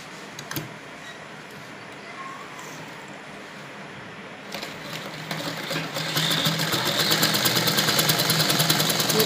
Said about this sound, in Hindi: तो देखिए कैसे मैं सिलाई लगा रही हूँ।